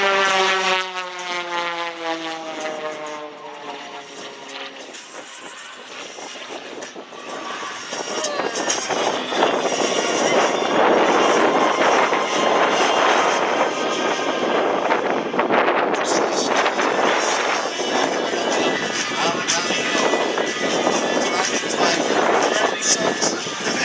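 An aerobatic propeller airplane performs at the Wings Over Batavia airshow in New York, its engine droning and shifting pitch as it passes, building to a loud, steady roar with wind noise on the microphone.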